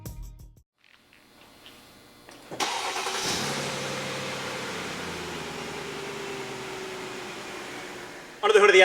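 A Mercedes-Benz S550 4MATIC with a 5.5-liter V8 cranks and fires after a brief quiet pause, flaring up loud and then settling into a steady, even idle close by.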